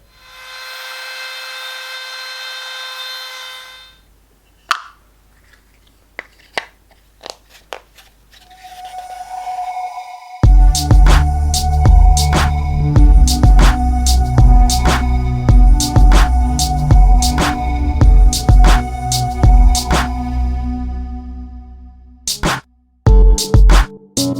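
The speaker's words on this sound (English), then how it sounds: "I'm going to route out the base of the lamp, that way I can put this inside." A router cutting out the base of a wood and resin lamp, starting with a steady whine that spins down, then scattered knocks before a loud, sustained rough routing noise broken by sharp repeated cracks, close and alone.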